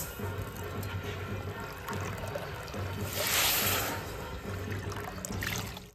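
Water poured into sugar in a wok-style pan to make syrup for sweet-potato pantua, a steady trickling pour running close up through the clip over a low hum.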